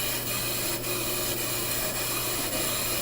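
A brake lathe takes a slow resurfacing cut on a brake rotor. It gives a steady, continuous grinding hiss with a constant level and no talking.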